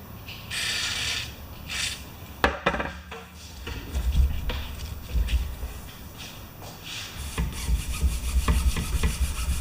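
Rust being rubbed and worked out of the control cables on a Briggs & Stratson Quantum small engine gives a scraping, rasping friction with repeated strokes, close up, with a few sharp clicks and no speech.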